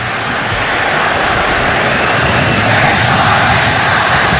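A large stadium crowd at the GBK roars during a U19 football match between Indonesia and Japan, a steady, loud wash of cheering and noise that holds without a break.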